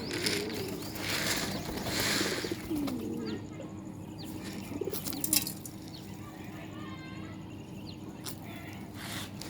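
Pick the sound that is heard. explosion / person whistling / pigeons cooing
pigeons cooing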